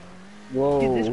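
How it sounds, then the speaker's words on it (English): A car engine in GTA 5 idles low and then revs up sharply about halfway through, its rising harmonic whine held loud to the end. "Whoa, dude, this car sounds bad."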